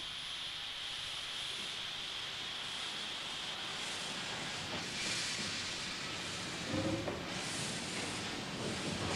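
A steam engine lets off a broad, steady hiss of escaping steam that runs continuously at moderate loudness, swelling slightly in places, with no talking.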